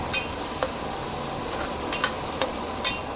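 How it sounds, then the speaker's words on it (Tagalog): Chicken liver and gizzard sauté in a hot pan with a steady sizzle, while a utensil stirs and scrapes in several sharp, close clicks throughout. "Igisa muna natin siya para mawala ang lansa."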